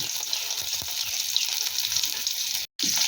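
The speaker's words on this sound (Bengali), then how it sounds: "তেলের মধ্যে ফোড়নটাকে খুব ভালো করে ভেজে নেব রসুনটাও খুব ভালো মতো ভাজা হয়ে গেছে" Crushed garlic fries in hot oil with nigella seeds and dried red chili, a steady close sizzle that runs without pause apart from a momentary cut near the end.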